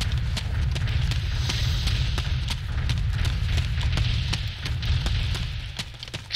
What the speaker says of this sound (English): Artillery, see it hitting right there in the middle of the screen.